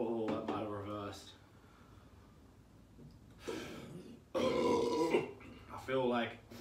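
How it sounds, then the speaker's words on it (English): A burp after drinking spiced rum from cans, with several throaty grunting eructations close up and loud, separated by quieter pauses. "That burp just came out, that second one"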